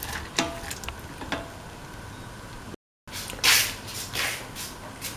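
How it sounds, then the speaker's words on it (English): Lentils are stirred into a carrot and rice mixture in a pan, giving soft scraping and squishing strokes with a faint sizzle, a few sharper clicks of the spoon, and a brief gap partway through. "Mix the lentil into the mixture thoroughly"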